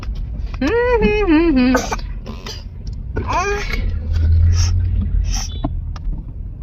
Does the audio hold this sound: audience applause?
no